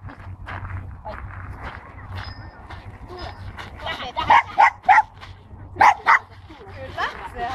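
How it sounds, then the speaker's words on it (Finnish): A dog barking during a training session, a few sharp barks clustered near the end over footsteps, handler talk and outdoor background noise. "Kyllä, se haukkuu mua."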